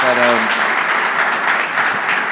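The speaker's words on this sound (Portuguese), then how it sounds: "Mais uma salva de palmas" Strong, sustained audience applause fills the Sala do Infante at the Alfândega congress centre during the C-Days 2023 conference. A voice is briefly heard at the start, then the clapping continues steadily.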